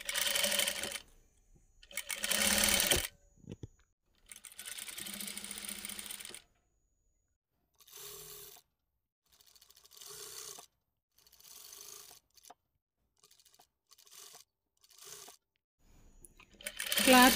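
A sewing machine stitches thread piping along a garment neckline in short bursts of fast mechanical whirring, separated by pauses, loud and close.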